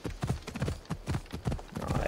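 Horse hooves clip-clop at a steady trotting rhythm in Assassin's Creed Odyssey, close and fairly loud, with a run of evenly spaced thuds continuing throughout and faint background sound underneath.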